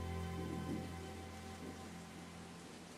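Steady rain falls through a scene in the Bollywood film Wake Up Sid, a soft continuous patter with a low hum underneath, even in level and without voices.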